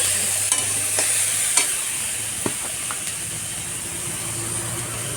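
Washed masoor lentils with salt and turmeric get stirred in a pan over a steady hissing sizzle, with a handful of light spoon clicks and scrapes scattered through it, close and unaccompanied by speech.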